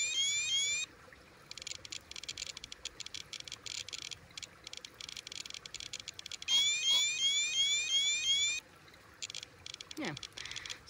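A RadiaCode scintillator radiation detector sounds its alarm in short repeated electronic chirping bursts, near and clear, with faint ticking between bursts and a quiet voice speaking in the background.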